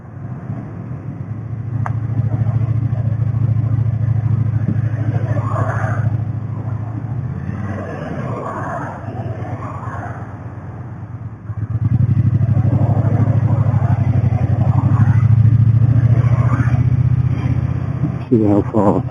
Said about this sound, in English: There's a nice burble, nice burble at tick over and lower RPM cruising